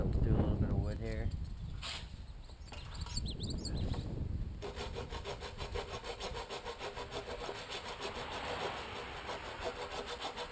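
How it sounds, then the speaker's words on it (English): Folding jab saw blade cutting through a piece of wood, a steady rasping back-and-forth stroke close up, with rougher scraping and handling at the start before settling into even rhythmic sawing. "Cut through a little bit of wood here."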